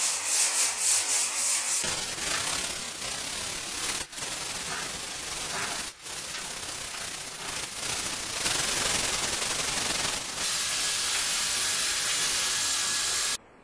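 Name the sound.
sanding car hood body filler with 150 grit sandpaper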